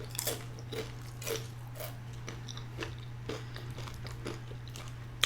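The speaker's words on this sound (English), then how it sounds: "And even when you crunch it, it's got a different sound and a different" Crunchy vegan chips bitten and chewed close to the mic, with repeated crisp crunches in an irregular rhythm over a steady low hum.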